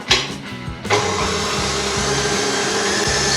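An electric mixer whirs into action on red velvet cupcake batter, starting with a brief clatter and then holding a loud, steady drone that runs continuously without talk.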